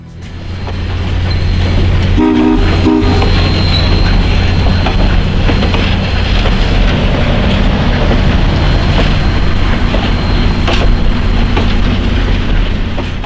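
A steam locomotive, Consolidation type engine number 1702 on the Great Smoky Mountains Railroad, rumbles steadily past at close range, with a loud continuous roar of wheels and engine and a brief burst of horn-like tones near the start.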